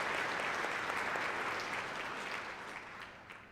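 A church congregation at St Margaret Mary claps for the choir during Advent, a full, even round of applause that slowly thins and fades near the end.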